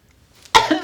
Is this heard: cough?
yes